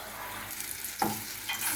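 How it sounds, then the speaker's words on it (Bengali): Brinjal slices fry in a lid-covered pan, giving a continuous low sizzle and hiss with a brief clink near the middle. "এভাবে ঢাকনা দিয়ে ঢেকে যদি বেগুন ভাজা যায় তাহলে বেগুনটা খুবই নরম হয়"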